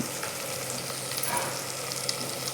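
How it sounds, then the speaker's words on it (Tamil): Small shallots sautéing in a pan for a traditional Tamil garlic curry, giving a steady, even sizzle with faint stirring clicks, close and uninterrupted by speech. "வெங்காயம் வணங்கட்டும்."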